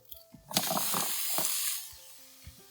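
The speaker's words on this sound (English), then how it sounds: "Listen to that sizzle." Chicken and vegetables sizzle loudly on a hot sheet pan, a bright spitting hiss that swells, holds for about a second, then fades, with faint clinks around it.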